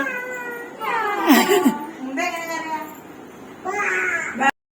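A young voice imitates a cat, giving several drawn-out, wavering meows with short pauses between them, close and clear.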